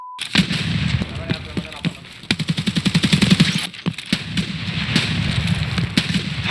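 Rapid automatic gunfire from Escape From Tarkov, with dense bursts of loud close shots across the clip and a distinct rattling volley midway, while players talk over it.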